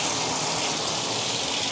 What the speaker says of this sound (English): water running